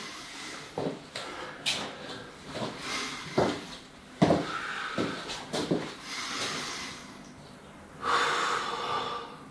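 Controlled breathing during a Krav Maga integration class, in through the nose and out through the mouth: a series of short, sharp breaths and snorts at close range, with rustling movement between them and one longer exhale near the end.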